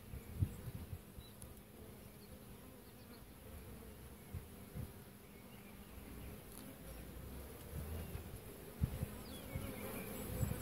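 Honeybees hum around an open hive under inspection, a steady low buzzing close by with occasional louder bees passing near.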